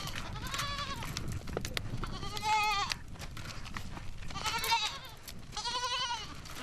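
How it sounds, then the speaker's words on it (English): Nanny goats and their kids bleat repeatedly on a Mongolian farm, several wavering cries overlapping at close range over steady outdoor background noise. "Each of the milked nanny goats is sent out,"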